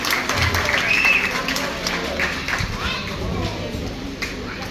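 An audience claps for children at a school graduation, steady applause from a crowd under a loud announcer's voice and children's chatter.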